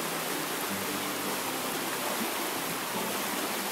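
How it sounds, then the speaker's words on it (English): Creek water springing out at the foot of a fig-covered rock face, a dense, steady rushing wash of flowing water with no breaks, close and even throughout. "we've got this amazing creek. It's springing out of there, out of nowhere."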